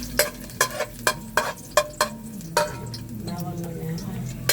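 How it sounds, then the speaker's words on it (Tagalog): Garlic sautéing in a pan for chicken adobo, with a spoon or spatula tapping and stirring in a quick irregular rhythm over a soft sizzle. "maggigisa muna tayo ng bawang"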